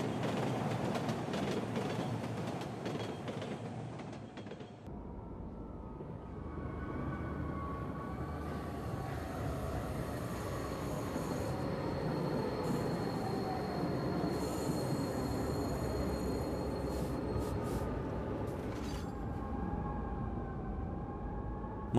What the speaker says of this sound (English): I woke up to the rhythmic sound of a train.